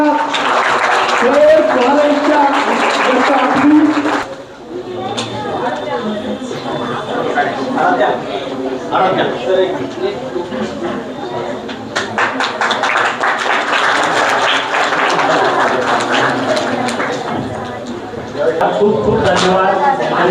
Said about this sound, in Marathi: जोरदार टाळ्या वाजवायच्या